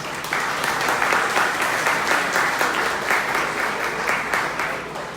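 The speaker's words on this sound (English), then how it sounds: "Give them a round of applause." Sustained applause from an audience at a charity celebration event honoring sponsors, dense steady clapping that fills the room for several seconds without talk.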